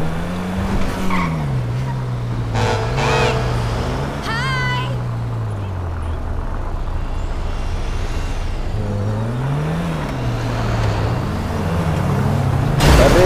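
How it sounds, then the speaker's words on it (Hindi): Modified car exhaust in GTA 5 with mods, a rumbling engine that rises and falls through throttle changes, with tire squeals and skids, heard under someone talking. "भाई, अब एग्जॉस्ट की आवाज़ सुनना तुम लोग।"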